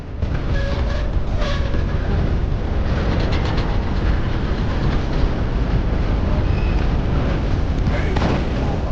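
A moving train in the Red Dead Redemption 2 game world, a loud, steady rumble with rhythmic clatter that continues without a break, with a voice speaking faintly over it.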